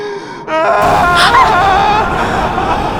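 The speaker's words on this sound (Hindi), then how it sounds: "ये तो किसी की रोने की आवाज है।" Someone crying out in a dark forest, an eerie, wavering wail that swells in suddenly and keeps trembling on, loud and close.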